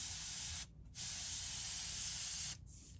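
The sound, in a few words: paint spraying from an airbrush while painting a fishing lure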